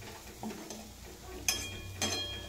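A vegetable curry with peanuts being stirred in a pan on a gas stove, with a few soft scraping strokes and two brighter scrapes over a faint, low sizzle.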